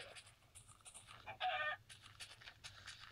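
A chicken clucks in short bursts in Minecraft Pocket Edition, with one louder, longer squawk in the middle, close and clear over faint background game noise.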